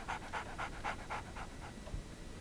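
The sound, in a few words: dog panting in Sherlock Holmes video game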